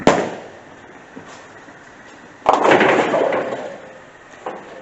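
A bowling ball thrown down an alley lane crashes into the pins in one loud, sharp burst that rattles and fades over a couple of seconds, with a faint earlier knock and quieter alley noise around it.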